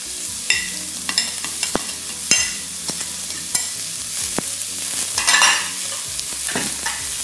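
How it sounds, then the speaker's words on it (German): Onions added beside pork chops in a dry pan with no fat, frying loudly with steady crackling and scraping stirs, close and alone with no talk. "So, mit den Zwiebeln genauso. Kein Fett rein, gar nichts. Die braten einfach richtig schön an"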